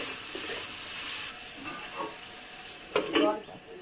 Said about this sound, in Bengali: হলুদ দিয়ে আর একটু আমি ভালো করে ভেজে নেব।